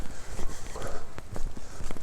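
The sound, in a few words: boots stomping in puddles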